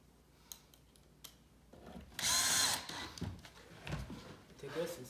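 Power drill driving two screws into a wooden farmhouse corner bench, a short loud whirring burst in the middle with softer tool handling and a voice around it.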